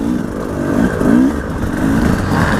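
A 2018 KTM 300 enduro motorcycle engine held at low, steady throttle during a hare scramble race, a loud close drone with a rough, wavering pitch that rises and falls slightly.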